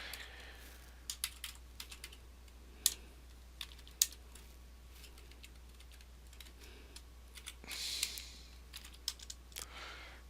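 Typing on a computer keyboard, a loose run of light clicks and occasional sharper key taps spread unevenly across the stretch, close but fairly quiet, over a low steady hum.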